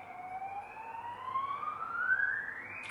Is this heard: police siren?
yes